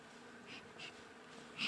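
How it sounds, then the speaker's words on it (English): Honey bees buzzing around an opened hive at night, a faint, steady drone with a few brief louder swells as bees pass close, no voices. "you can see these bees are definitely not happy we have them open tonight"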